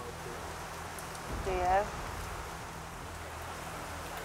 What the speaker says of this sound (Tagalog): Ilang saglit pa'y bumuhos ang malakas na ulan.